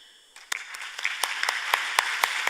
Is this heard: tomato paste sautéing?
no